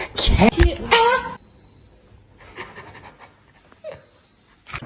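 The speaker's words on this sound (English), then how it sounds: "Spunky, what are you doing, dog?" A dog pants in short, breathy bursts after a brief burst of loud human talking at the start.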